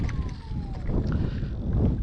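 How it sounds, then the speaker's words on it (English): Wind buffets the microphone with low rumbling gusts, steady and close, with faint background noise. "it's still kind of windy, it's off that direction now, the southeast"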